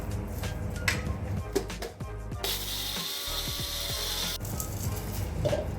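A kitchen grinder regrinds sifted leftover powder for an idli premix of roasted poha, giving a close mechanical whirring and rattling with a sharp higher-pitched grinding burst in the middle.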